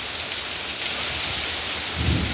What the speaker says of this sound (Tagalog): Sobrang lakas ng ulan guys.